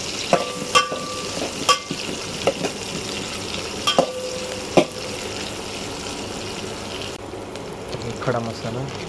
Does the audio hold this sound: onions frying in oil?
yes